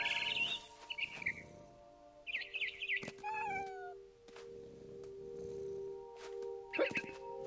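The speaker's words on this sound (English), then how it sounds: "Then I heard chirping outside my window. It was a barn swallow going back to her nest." Bright, high chirps from a barn swallow in the video game What Remains of Edith Finch come in short bursts, alongside meow-like cries and a low steady hum.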